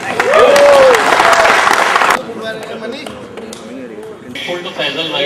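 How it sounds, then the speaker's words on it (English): Loud audience applause at a school reunion gathering fills the first two seconds, then cuts off abruptly, leaving murmuring voices, scattered sounds and someone speaking nearby. "I think we all take one applause"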